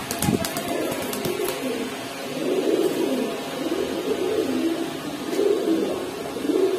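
Kaldom pigeons coo in rolling, repeated bursts, fairly close and clear, with some low background noise and a few clicks near the start.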